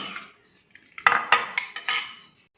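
A spoon stirs a thick homemade hair pack mixture in a bowl, with a quick run of bright metallic clinks and taps against the bowl, close and clear with no talking.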